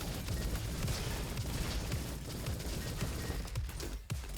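Continuous dense gunfire and booming impacts from weapons in the shooter game Roboquest, loud and sustained throughout with a few brief dips.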